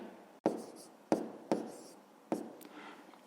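Handwriting out multiplication steps for a fifth-grade math exercise: four sharp pen or chalk strokes tapping and scratching at irregular intervals, close and fairly quiet, with no talking.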